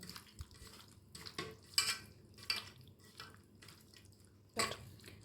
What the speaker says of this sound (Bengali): এখন 20 মিনিট পরে চিকেনটাকে আবার একটু মেখে নিলাম।